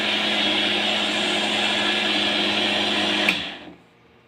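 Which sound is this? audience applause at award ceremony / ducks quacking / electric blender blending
electric blender blending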